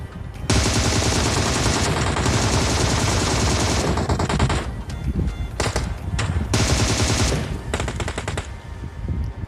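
Sustained bursts of rapid automatic gunfire in PUBG Mobile, loud and close, rattling almost continuously with brief breaks and several separate volleys toward the end.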